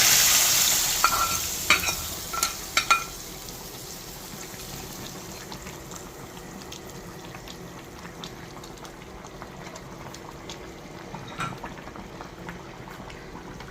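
Tempering (baghar) poured into Khulna-style chui jhal beef curry in Dhaka: a sharp, loud hiss bursts up at once, then fades into quieter bubbling with a few clinks of stirring, and no voices.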